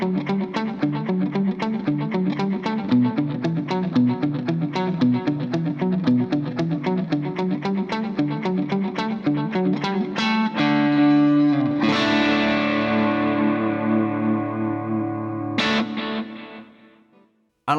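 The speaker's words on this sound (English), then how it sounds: "Now if I bring in the Mira compressor, hear how much more snap the guitar's got." An electric guitar runs through a Walrus Audio Mira optical compressor pedal, picking a fast delayed pattern with even, punchy attacks before settling into long sustained chords that ring out and fade.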